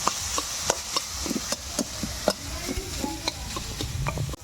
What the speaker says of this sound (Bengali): এবার আলুটা ভাজা ভাজা করে জল দেব